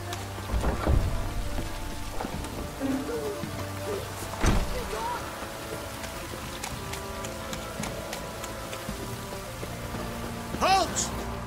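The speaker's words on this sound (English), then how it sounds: "Looks like rain." Rain falling in The Witcher 3 game world, a steady wash of patter under occasional thuddy bumps and a faint call near the end, with a voice speaking briefly.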